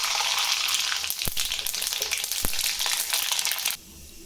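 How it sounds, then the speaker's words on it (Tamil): Mustard seeds crackle and spit in hot oil in a kadai, a dense, loud sizzle with sharp popping bursts that cuts off abruptly near the end, leaving a quieter background. "ஓகே, கடுகு சேர்த்துடலாம்."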